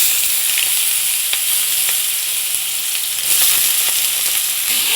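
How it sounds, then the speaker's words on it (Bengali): Potatoes and carrots sizzle steadily in hot white oil in a wok while being fried for sabudana pulao. The frying is loud, close and continuous, with a few faint stirring ticks and no talking. "এবার আলু আর গাজরটা ভেজে নেবো"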